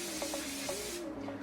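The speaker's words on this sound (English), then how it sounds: "Another quick spray with the rice bran oil again." Quick spray of rice bran oil from an aerosol can, a steady close hiss running for about a second, then cutting off abruptly.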